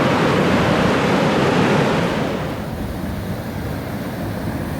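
Rushing water from waterfall rapids on an Ontario fall hike makes a loud, steady broadband roar close by, easing slightly halfway through but continuing without pause and with no voices over it.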